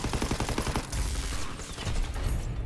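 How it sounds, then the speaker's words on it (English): Rapid gunfire aimed at a Zeppelin in Call of Duty: WWII Nazi Zombies: a dense, continuous burst of shots crackling throughout, with brief uneven gaps between volleys. "We have to shoot at the Zeppelin."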